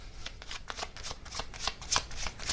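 Tarot message cards being shuffled by hand, a steady run of crisp papery riffling bursts, close and fairly quiet, with no talking.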